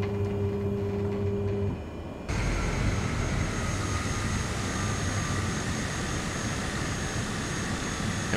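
Flight simulator turboprop aircraft engines spooling up to takeoff power at Morgantown, a low droning hum that jumps to a louder, broader steady whine and roar partway through, sustained to the end without speech.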